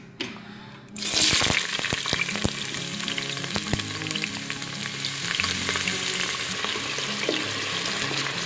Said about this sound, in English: Add some vegetable oil, not too much, to saute our onions.